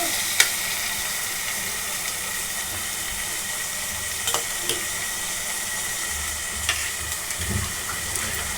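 Tomato sautéing with ginger and garlic in oil for chicken curry, a constant close sizzle with occasional spoon scrapes and clinks against the pan, no talking.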